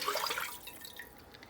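Homemade chicken stock is poured into a pan, giving a soft, close splashing pour that is strongest at the start and trails off into light trickling.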